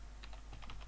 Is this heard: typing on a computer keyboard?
yes